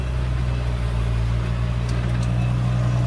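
Steady low rumble of a tractor engine running while pulling a ripper through grass, a constant drone with a deep hum and no variation over a few seconds.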